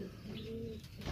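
Pigeons kept by a fancier in Peshawar coo softly in a short stretch, a low steady murmur under background noise, fairly faint and close.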